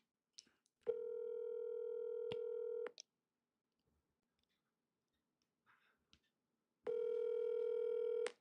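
Telephone call tones: two long, loud, steady ringback tones separated by a quiet gap with faint clicks, heard alone without talk.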